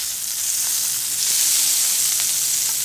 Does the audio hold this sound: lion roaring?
no